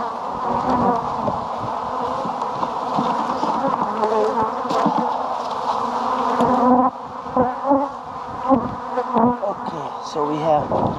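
Honey bees buzz steadily inside an opened hive during a pre-spring inspection, a dense close hum with soft knocks and shifting frame sounds, louder in the first half and thinning into intermittent buzzing bursts.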